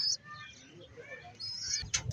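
Racing pigeons in a loft with young chicks give soft coos and brief chirps, with a short flutter of wings near the end.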